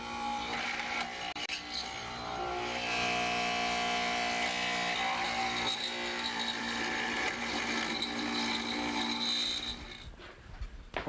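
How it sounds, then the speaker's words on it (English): Mortising machine cutting stop mortises in wood, a steady whining motor hum with grinding cutter noise running continuously for several seconds before stopping near the end, close with no talking. "We start by making the stop mortises for our stretchers, cutting away adjacent sections until we get the length we need."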